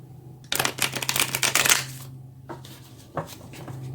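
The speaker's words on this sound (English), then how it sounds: "I am trying to shuffle so you can see me shuffle" A quick burst of tarot cards being shuffled, a rapid riffling flutter, followed by a few softer taps and slides of cards close by.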